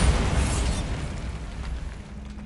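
A Bombarda blast spell in a fantasy video game erupts as a loud, deep booming explosion with a rumbling roar that slowly fades over a couple of seconds.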